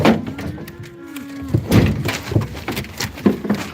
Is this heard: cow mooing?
yes